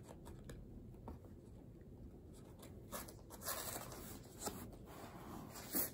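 Package wrapping on a K-pop boy group's visual photobook being handled and torn open, with soft crinkling, rustling and scattered papery scratches, fairly quiet and close throughout.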